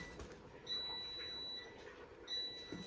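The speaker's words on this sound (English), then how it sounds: "That's my food saying it's ready." A kitchen appliance beeping that food is ready: two long, high electronic tones a second or so apart, fairly faint over a quiet room hum.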